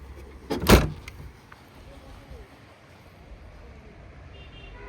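Boot door of a 2014 Maruti Suzuki Swift Dzire VDI diesel, slightly rusted in the deck floor area, being handled: one sharp loud thump near the start, then a low steady background.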